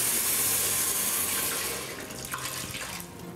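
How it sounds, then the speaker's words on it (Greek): Half a litre of water pours steadily into a pot of festive rice stuffing with chestnuts and raisins, a soft continuous splashing that thins out and tapers near the end. "Μέσα και το νερό μας."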